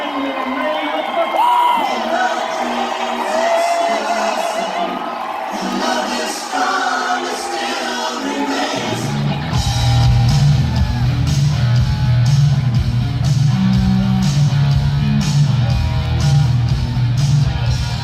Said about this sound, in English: We're here to raise our voices. We're here to scream, clap.